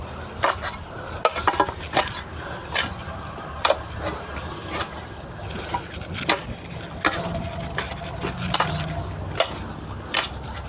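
Soil and fertilizer are stirred together by hand for sweet potato planting, giving close, irregular scraping and gritty taps with uneven pauses over about ten seconds.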